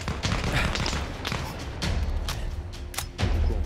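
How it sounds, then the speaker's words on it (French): Enemy machine gun fire in a war video game, a loud, dense stream of rapid cracks and thumping bursts that surge and dip over a few seconds, with no talking. "Oh, il a une mitrailleuse."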